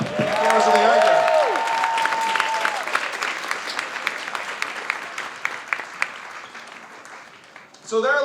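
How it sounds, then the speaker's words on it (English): A large audience at a political fundraiser in New York claps loudly and continuously, with a whistle rising over the ovation at the start before the applause slowly fades and a voice returns at the end. "Let's give them a round of applause."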